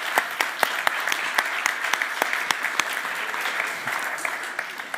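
Live audience in a pub at a medical comedy show, clapping steadily with sharp individual claps standing out from a dense, even patter, no talk over it.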